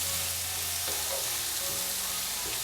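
Cabbage sautéing in a pan over high flame for Kerala cabbage thoran, giving a steady close sizzle and frying hiss with no voices.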